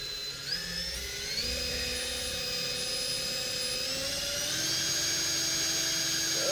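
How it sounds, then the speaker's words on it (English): A steady, high-pitched whine of a power drill drilling through jute backing runs continuously, its pitch shifting slightly as it works, loud and close with no talking. "It just balls up when you try to drill through it"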